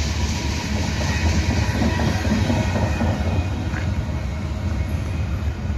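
A freight train out of Atlanta bound for Greenwood rolls through Abbeville, a loud, close, continuous rumble with steady wheel clatter and no break in the sound.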